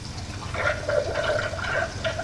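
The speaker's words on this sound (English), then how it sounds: "turn on the water, make sure it's flowing." Water is switched on and runs through the cooling supply of a Monotype casting machine, a steady close rushing flow with gurgling tones lasting a couple of seconds, with no talk.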